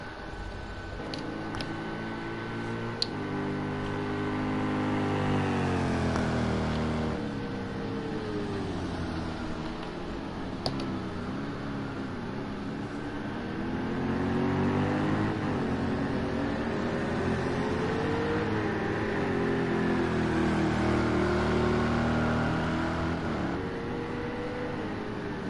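GTE race cars lap the Dubai Autodrome in a PS4 racing game, engines droning and rising through gear changes, loud and continuous as several cars run together.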